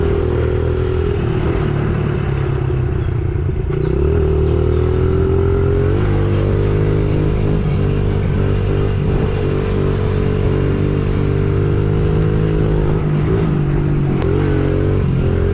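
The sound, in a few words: small air-cooled dirt bike engine riding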